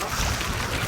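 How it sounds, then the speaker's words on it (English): Wind gusts buffet the microphone outdoors on a freezing day beside a duck pen, a brief broadband rumble lasting under a second. "Oh, she's windy."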